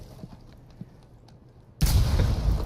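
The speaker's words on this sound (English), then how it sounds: "there's Fuse using his little grenade things" Fuse's cluster grenades going off in the tactical shooter Rainbow Six Siege: a few faint distant thumps, then a sudden loud blast that rolls into a sustained rumbling barrage.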